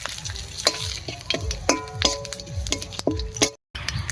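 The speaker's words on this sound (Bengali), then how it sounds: "মাছ ভাজার এই তেলের মধ্যেই ফোড়ন দেব আর ফোড়ন দেব জিরা আর তেজপাতা দিয়ে দেব এক চামচ মতো গোটা জিরা আর দু তিনটে মতো তেজপাতা" Whole cumin seeds and bay leaves crackle in hot mustard-free fish-frying oil, with bursts of sizzle, clinks of a spoon against the pan, and brief silent gaps between stirs.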